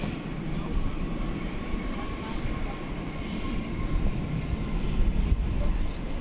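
A Qantas airliner lands at DFW Airport at night, its steady jet roar low and rumbling, swelling slightly toward the end with no one talking over it.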